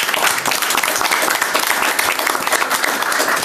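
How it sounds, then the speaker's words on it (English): Steady audience applause at a public board meeting, dense clapping from many hands filling the room evenly throughout, without a break. "Another round of applause, please."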